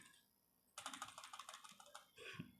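Fingers tap out Java code on a computer keyboard in a quick, close run of crisp key clicks lasting about a second, then a brief pause and a few more presses, with no voice over the typing.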